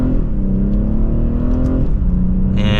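A 2024 BMW 840i xDrive Gran Coupe engine pulls hard as the car accelerates back up to speed, with a steady loud drone that dips briefly near the end before climbing again with a sharper rising whine.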